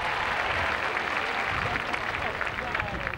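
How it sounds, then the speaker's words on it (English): A crowd at Detroit's No Crime Day event in 1986 claps steadily in a continuous, moderately loud wash of applause with some general crowd noise mixed in. "So give yourself a round of applause."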